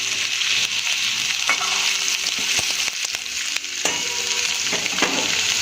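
Ingredients for masala spaghetti sautéing together in a pan: a continuous bright sizzle underlies repeated scraping stirs and soft knocks of a spoon against the pan.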